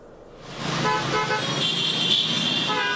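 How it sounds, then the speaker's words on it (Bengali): Car horns honking in congested capital-city traffic, overlapping toots that build to a loud sustained blare over the roar of road traffic. "রাজধানী জুড়ে কারণে অকারণে হর্ন বাজানো এখন স্বাভাবিক নিত্য ঘটনা"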